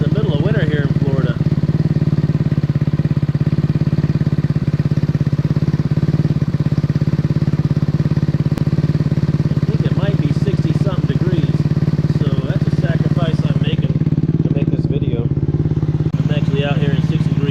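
A small GY6 scooter engine runs steadily close by, a low droning hum with a few slight revs and clattering toward the end.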